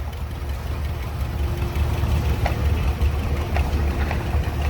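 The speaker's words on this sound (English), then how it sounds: "To 1953 Massey Harris Model 55, owned by Mike McHenry out of Georgetown." A 1953 Massey Harris Model 55 tractor engine idles steadily close by at an antique tractor parade, a low, loping knock repeating evenly throughout with no voices.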